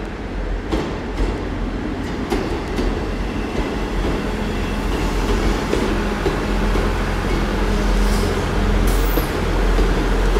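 A Class 158 diesel train rumbles steadily past at close range at Exeter St David's station, a constant heavy drone with faint wheel clatter and a brief high squeal near the end.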